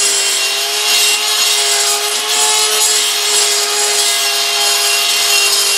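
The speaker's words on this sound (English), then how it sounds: "I'm just doing light strokes, not putting any pressure, letting the bit do the work" A rotary tool bit grinds steadily inside a McCulloch Timber Bear chainsaw cylinder during porting, producing a continuous high, close whine with a faint harmonic hum and no pauses.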